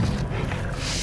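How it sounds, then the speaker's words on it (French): A deep, rumbling big-cat roar fills the moment, loud and close, with a growling, throaty texture. "Ah, il y a un dent de sabre en plus."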